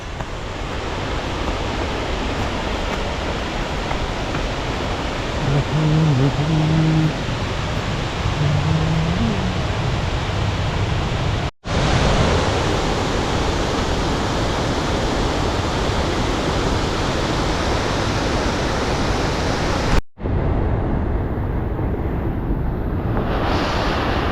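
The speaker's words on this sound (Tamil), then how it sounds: "அதுதான் நம்ம தேடி அலைஞ்சு வந்த அந்த தூவானம் வாட்டர் ஃபால்ஸு" A steady, heavy rush of falling water from Thoovanam Falls in Chinnar Wildlife Sanctuary fills the air, loud and constant, with no other sounds standing out.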